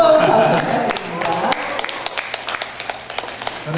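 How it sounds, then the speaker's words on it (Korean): Audience at a poetry recital celebrating a chairman's seventieth birthday clapping in a scattered, uneven patter that thins into sparse individual claps, following a voice at the start. "여러분 뜨거운 박수 부탁드립니다."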